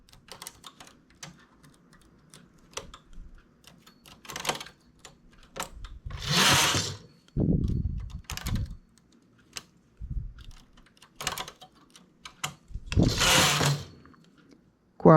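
A knitting machine carriage is pushed across a row, heard as intermittent whooshing, rattling sweeps separated by clicks and ticks of needles being moved, fairly close and quiet.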